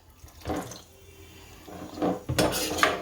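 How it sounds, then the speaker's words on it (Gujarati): Water poured into a cooking pot of rajma (kidney beans) in short splashing bursts, close and moderately loud, with a brief clink of metal. "આમાં સેસ પાણી નાખશું."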